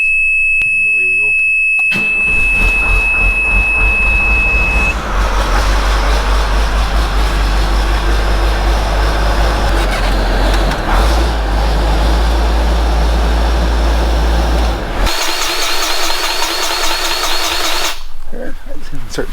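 A tracked hydrostatic machine's engine cranks and catches after a short beep, then runs with a loud, steady low rumble and rising whine close by, with a voice talking over it in snowy conditions.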